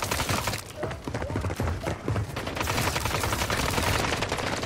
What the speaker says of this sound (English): This guy's trying to shoot.